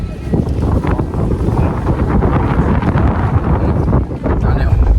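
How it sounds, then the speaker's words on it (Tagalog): Strong wind buffeting the microphone on a mountain in southern Cebu province, a loud continuous rumble with gusty fluctuations throughout. "Mahangin pa."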